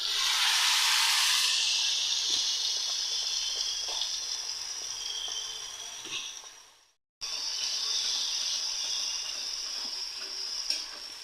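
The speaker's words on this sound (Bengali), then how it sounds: "এবার আমি মশলাটা দিয়ে দিচ্ছি।" Spice masala hitting hot oil for a hing tarka, a loud bright hiss bursting at first and then settling into a steady sizzle, with a short silence midway before frying resumes.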